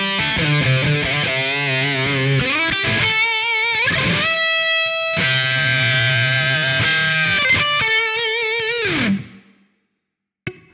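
A distorted electric guitar, run through Amplitube 5 with hall room reverb, plays sustained chords and notes with a spacious reverb tail, ending with the sound ringing out into silence.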